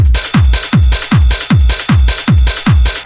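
Punchy hard techno kick drums thump in a steady four-on-the-floor pulse with hissing hi-hats on top, loud and driving.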